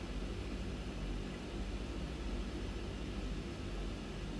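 Twin Otter cargo plane engines run before departure, a loud, steady roar and broad hiss that continues evenly throughout with no talk.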